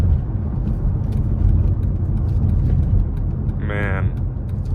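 A 2006 Dodge Charger R/T with a loud V8 drones steadily from inside the cabin while driving, a deep continuous rumble with a brief voice near the end.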